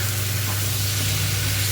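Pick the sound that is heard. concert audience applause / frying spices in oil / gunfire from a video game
frying spices in oil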